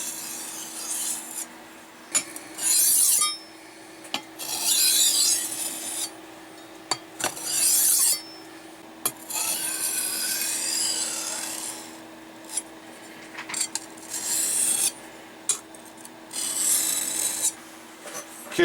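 A knife blade is drawn across a whetstone in repeated rasping strokes, some short and others long and sustained, with brief pauses between them, close and fairly loud.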